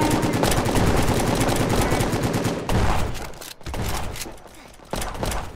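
Rapid automatic gunfire in a Roblox prison escape game, loud and dense, with bursts of rattling shots that break off briefly and then start again.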